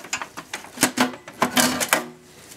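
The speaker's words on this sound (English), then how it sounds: "We have to disconnect that to remove the hard drive caddy." Plastic hard drive caddy being unclipped and pulled from a Gateway GT5263E desktop computer, a quick run of sharp clicks and rattling knocks, close up, with no talking.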